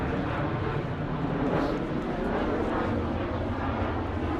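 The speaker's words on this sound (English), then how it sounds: "you hear the airplanes every 5 minutes coming from Kansai Airport going towards Asia" An airliner from Kansai Airport roars overhead in Osaka, a loud, steady broadband jet rumble that fills the whole stretch without easing.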